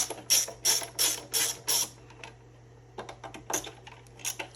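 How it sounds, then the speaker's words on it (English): Ratcheting clicks in quick bursts as bolts are removed from a Onewheel Pint X fender, five rapid runs of clicking close up, a short pause, then several lighter, scattered clicks. "Simply pull these 4 bolts out."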